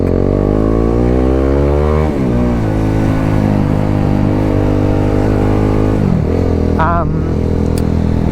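A motorcycle on the road, heard as a loud, close, continuous engine drone with rising and falling pitch through revs and gear changes, alone without talk.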